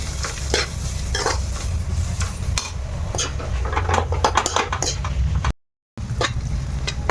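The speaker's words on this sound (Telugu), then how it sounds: "ఇప్పుడు బాగా మగ్గనిద్దాం." Carrot and spinach cook in a pot with a continuous sizzle while a utensil stirs and clatters against the metal in repeated scrapes, close and fairly loud, with a brief silent gap near the end.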